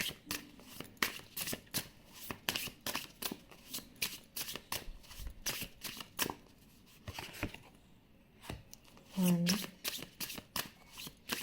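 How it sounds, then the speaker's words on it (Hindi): Tarot cards are shuffled by hand and laid into piles: quick crisp riffles and flicks, close and fairly quiet, coming in steady bursts with short pauses between them. "मैं यहाँ पर आपके लिए पाइल्स बनाऊंगी, यानी कि सारे कार्ड्स एक साथ ही निकालूंगी"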